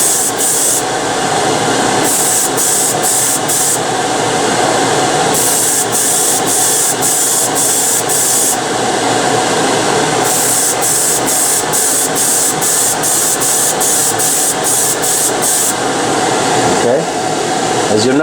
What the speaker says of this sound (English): Now I'm going to turn on the booth, so it's going to be noisy